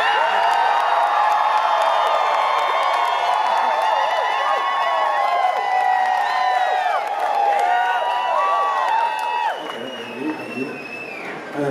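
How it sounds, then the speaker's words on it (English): A large audience at a live concert in Webster Hall, New York, roars with sustained cheering, whoops and scattered shouts. The din stays loud and continuous for about ten seconds, then dips slightly near the end. "I want to see between me and Roy who can get the biggest cheer by doing less"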